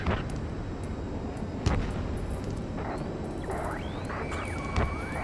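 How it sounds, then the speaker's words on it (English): A continuous low rumbling roar with scattered booms and cracks of gunfire in city streets, loud and busy, with a jet-like whine rising near the end, from the video game Ace Combat 7. "Gunfire and the roar of jets echoing through the streets."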